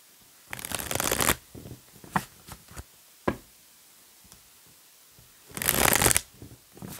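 An oracle deck of mirror cards is shuffled in two loud riffling bursts at the start and end, with soft taps and knocks of the cards in between.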